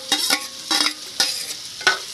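A spatula scrapes and tosses egg through fried rice in a hot pan, with several sharp metallic strokes in an uneven rhythm over a low sizzle, close up and with no talking.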